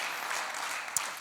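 An audience at a sports talk applauds in a steady, dense wash of clapping that holds level throughout, with one sharper clap standing out near the end.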